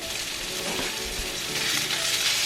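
Pork tenderloin browning in a hot pan with butter, salt and pepper, giving a steady, close sizzle and crackle that holds for a couple of seconds with no voices over it.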